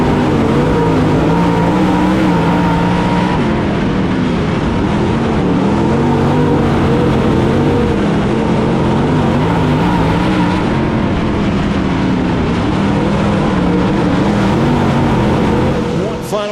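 Race cars running laps at Whynot Motorsports Park roar loudly and continuously, with engines rising and falling as they accelerate past, and a commentator talks over the engine noise throughout.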